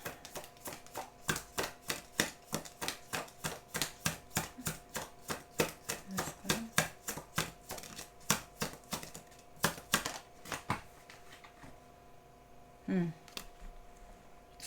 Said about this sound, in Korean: 제가 추억 카드 뽑아보도록 하겠습니다.